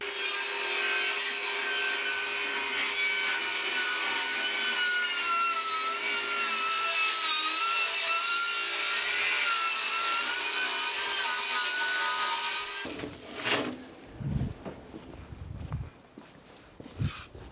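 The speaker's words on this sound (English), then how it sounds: "now I'm going to rip some strips down using the table saw" Table saw ripping wooden strips for workshop shelves: a loud, steady whining cut with strong harmonic tones runs for about thirteen seconds, then stops abruptly, leaving brief knocks and clatter as the blade winds down.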